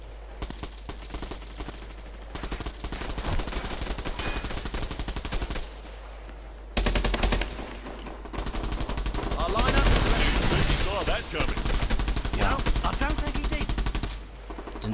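Rapid automatic gunfire from a weapon in the online shooter Bullet Run, loud bursts of shots rattling across most of the stretch, broken by a few short pauses and shifts in intensity, with game noise behind.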